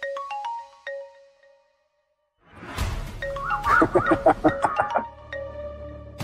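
A mobile phone ringtone sounds for an incoming call, a melodic electronic jingle with a sequence of bright tones, pausing briefly and then resuming with a busier, louder run of notes.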